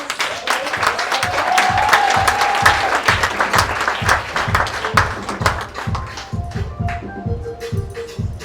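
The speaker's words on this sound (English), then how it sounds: "A big kind of applause for" An awards-ceremony audience claps loudly and steadily for a recipient, a dense, sustained burst that thins toward the end into scattered individual claps.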